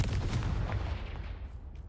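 The Confringo blasting curse from Hogwarts Legacy goes off as a sharp, booming burst with rapid crackling impacts, then trails into a fading low rumble.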